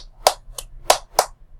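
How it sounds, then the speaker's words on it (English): Four crisp single hand claps in an uneven rhythm, close and fairly loud, with no voices. "And you hear clapping, it's for me."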